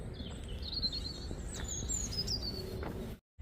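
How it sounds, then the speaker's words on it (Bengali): Many birds chirp and twitter with bright, overlapping calls inside a park on Santorini, Greece, against a steady outdoor background, continuing for a few seconds before a brief cut to silence near the end. "এত বেশি পাখির কিচিরমিচির শব্দ"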